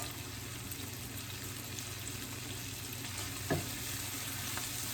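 A spiced salmon dish seasoned with black pepper and Himalayan salt sizzles steadily in a pan, a constant close frying hiss with one brief knock partway through, no talking.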